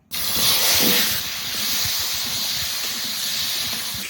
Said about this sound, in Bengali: মাছ ভাজা তেলে আলু ভেজে নেবো